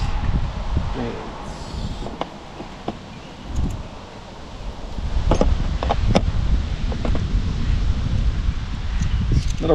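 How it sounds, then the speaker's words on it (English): Gusty wind buffets the microphone outdoors on a rural property, a steady low rumble swelling and easing, with scattered faint clicks and light rustling layered over it. "Another windy day here in the properties."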